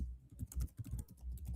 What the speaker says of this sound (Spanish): Se escucha el teclado.